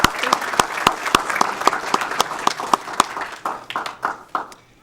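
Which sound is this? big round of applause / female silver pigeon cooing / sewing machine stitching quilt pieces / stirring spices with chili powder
big round of applause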